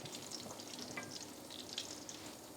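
Whole spices (star anise, black pepper, cloves, cumin seeds) fry in refined oil, making a steady, close sizzle and crackle with no voices.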